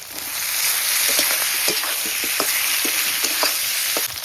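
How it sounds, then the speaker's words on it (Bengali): Fried vegetables tipped into a hot pan of oil with ginger, green chilli and cumin, sizzling loudly and steadily with a run of sharp spatula scrapes and taps close by. "এবার ভেজে রাখা সবজিগুলো দিয়ে দিচ্ছি।"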